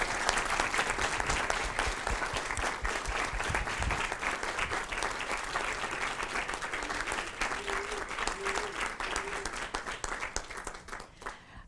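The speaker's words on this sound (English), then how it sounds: "One more round of applause for these outstanding students." Dense, sustained applause and clapping from an audience at a Board of Education meeting honoring outstanding students fill the room evenly, with a faint voice briefly audible beneath.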